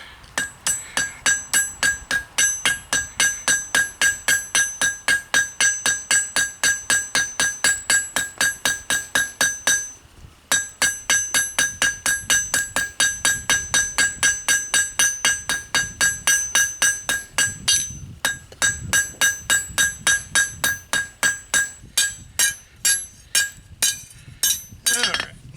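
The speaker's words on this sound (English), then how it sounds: "Alright, switching to my lighter hammer." A lighter hammer strikes a spoon being forged on an anvil in rapid, steady metallic blows with bright ringing overtones, pausing briefly twice before faster closing taps.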